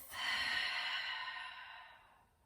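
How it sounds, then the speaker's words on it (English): A single long, breathy exhale out through the mouth during yoga breathing, airy and hissing, building quickly and then slowly fading away, heard close and quiet. "Exhale out the mouth."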